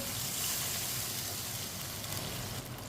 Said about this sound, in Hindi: ये मैंने 2 गिलास पानी डाल दिया।